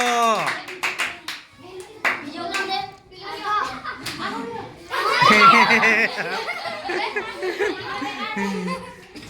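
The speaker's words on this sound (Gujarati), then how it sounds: "ચલો જોરદાર તાળીઓના થી આપણે જયેશને વધાવી લો" A small group claps for the winner of a balloon-and-cup party game. Bursts of sharp handclaps come through amid children's chatter and laughter, and a louder round of clapping builds midway before fading under voices.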